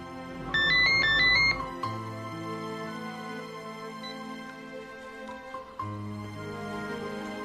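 Electronic phone ringtone plays a short, loud melodic burst of repeated chiming notes, then stops abruptly as quieter background music and ambience continue.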